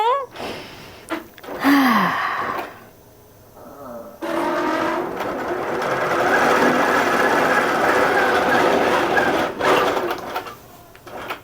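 A home sewing machine with stitching trouble, bobbin and top thread loaded, runs in one steady whirring burst of about five seconds, preceded by audible sighs and breaths.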